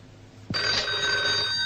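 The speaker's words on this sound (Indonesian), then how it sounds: "dari tadi telepon bunyi nggak diangkat-angkat?" A telephone bell in an old Indonesian film suddenly starts ringing loudly and steadily, with a bright sustained tone.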